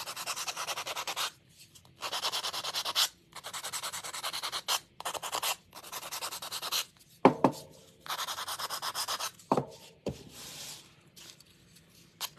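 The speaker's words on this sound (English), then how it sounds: "I'm going to give it a little light sanding" Repeated short bursts of light rubbing sandpaper strokes on a small wooden gingerbread figure, close and fairly quiet, with brief pauses between passes.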